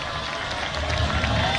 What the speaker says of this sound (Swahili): Bwana tuwapigieni makofi na hao wasikie vizuri bana